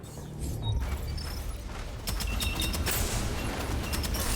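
Primary weapon fire in DeadZone Rogue, a steady stream of rapid shots that grows denser and louder after two seconds, with continuous crackling over a low rumble.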